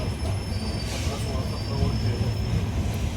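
An Indian passenger train travelling from Kolhapur to Pune, heard from inside the carriage: a steady low rumble of wheels on rails with faint high metallic squeal lines running throughout, and a voice speaks briefly.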